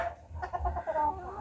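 A sweater hen gamefowl gives a short run of soft clucks, close by and fairly quiet, over a low background rumble.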